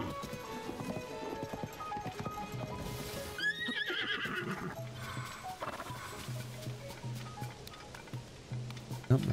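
In The Legend of Zelda: Tears of the Kingdom, a horse's hooves clop and shuffle while it lets out a clear whinnying neigh midway, with game ambience underneath.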